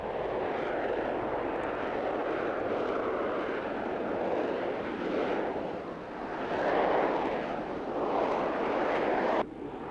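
A vectored-thrust jet aircraft at an air show in Fairford, its loud jet roar steady and broadband throughout, swelling slightly midway before a sudden drop at the end.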